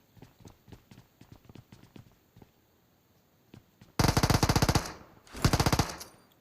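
Scattered single gunshots pop at first in a video game, then two loud bursts of rapid automatic fire rattle close by, with no talking.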